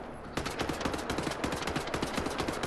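Rapid automatic gunfire in the shooter Wolfenstein: The New Order, a steady rattling stream of shots that kicks in abruptly and keeps a fast, even rhythm, close and loud throughout.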